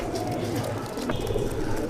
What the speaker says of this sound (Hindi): तो ये सारे कबूतर हैं, इसमें मेल फीमेल दोनों हैं